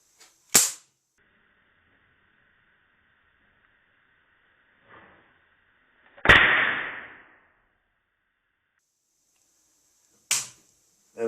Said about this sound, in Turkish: gördüğünüz gibi hoparlörümüz patladı. Bir anda tak etti ve patladı